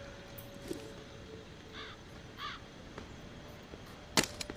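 A crow caws twice at moderate distance in The Walking Dead: Saints and Sinners video game, harsh and clear over a steady ambient bed, followed by a sharp click near the end.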